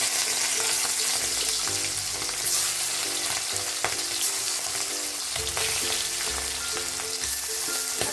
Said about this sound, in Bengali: এখন চিংড়িগুলো হালকা করে ভেজে নেবো